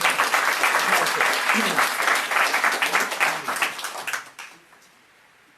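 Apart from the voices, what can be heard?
audience applause for parliamentarians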